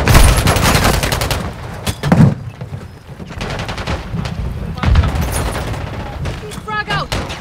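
A grenade blast and sustained bursts of gunfire ring out in the military shooter game Call of Duty Warzone. The firing is loud, dense and continuous, with heavy impacts mixed in and voices talking over the combat.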